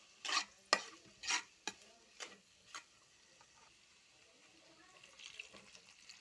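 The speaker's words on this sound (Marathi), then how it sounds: "आता मस्त परतून घेऊया." Soybean curry stirred and sautéed in a pan: a run of sharp scraping strokes close by, then a soft, faint sizzle that carries on alone.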